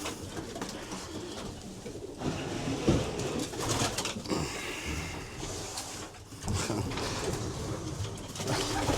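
Stock pigeons coo softly amid a busy rustle of flapping and shuffling, with the low cooing repeating off and on across a noisy background.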